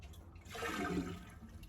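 A Jacuzzi Perfecta toilet flushes in one short, soft rush of water that swells and then drains away, heard alone and close.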